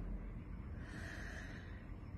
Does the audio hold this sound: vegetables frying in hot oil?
no